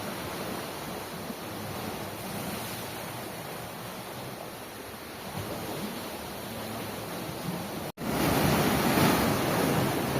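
Strong ocean surf roars continuously at a shoreline during a fishing outing, a dense wash of breaking waves with a brief dropout near the end before the surge returns louder.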